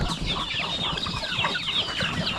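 Chickens in a mixed flock with chicks cluck continuously at moderate distance, with scattered overlapping calls and no talking.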